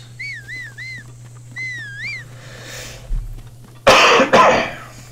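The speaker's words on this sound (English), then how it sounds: "I seem to be full of coughs today." A person coughs twice, loud and close, in a short harsh burst near the end, after a quiet stretch holding a few whistle-like chirps and a steady low hum.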